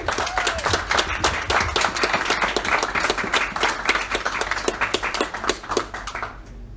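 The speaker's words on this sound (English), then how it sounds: "another round of applause just for Quentin" Audience at a memorial lecture on socialism and the early Labour Party applauding the lecturer, many close hand claps in a lively uneven patter that tapers off at the end.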